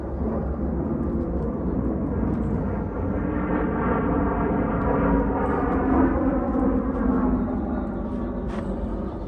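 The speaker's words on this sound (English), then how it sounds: "Pardon the planes, it's Las Vegas, they're always coming over my house." A loud airplane over Las Vegas roars overhead in a continuous, broad rumble that holds steady throughout, with no one speaking.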